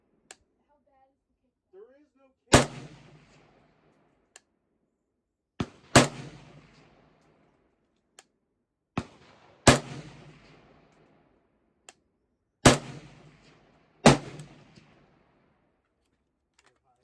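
Five loud, sharp rifle shots from a Zastava ZPAP M70, fired singly at uneven intervals of about three seconds, each with a short ringing decay, plus a few fainter clicks between them.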